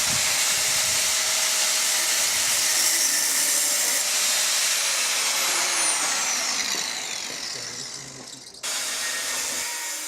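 A power tool cuts through an aluminium shutter part, giving a steady, harsh whining hiss up close that dips near the end, stops abruptly and then briefly resumes.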